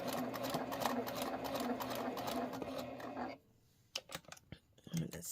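A sewing machine stitches quilt fabric in a steady, close whirring run that stops abruptly partway through, followed by scattered clicks and handling noises; a person speaks softly over the sound.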